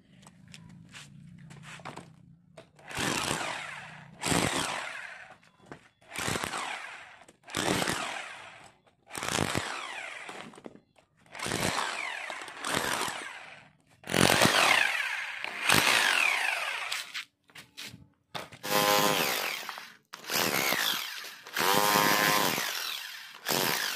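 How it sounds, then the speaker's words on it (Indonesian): A Ryu RRH26 rotary hammer chisels into a wall in repeated loud, harsh bursts of hammering, each lasting one to two seconds, separated by short pauses, close up and without talking. "sekarang kita coba mobok ya teman-teman"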